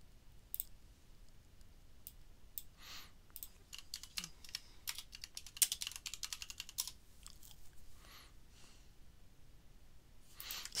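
Code being typed on a computer keyboard, a steady run of quiet, close key clicks with scattered louder taps and brief pauses, no voices.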